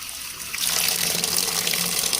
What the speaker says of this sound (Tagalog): Lagyan muna natin siya ng tubig